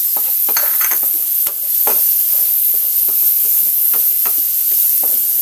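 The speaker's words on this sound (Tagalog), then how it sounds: "Meron na ako dito sa kawali na margarine. Pwedeng butter. Hinaluan ko ng konting mantika. Maglagay na tayo ng ating bawang sibuyas." Garlic and onion sizzle in margarine mixed with a little oil in a frying pan, a constant loud hiss broken by scattered scraping strokes of a spatula as the pan is stirred.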